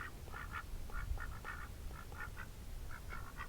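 Ducks quack repeatedly outdoors in a faint, irregular series of short calls over low background rumble.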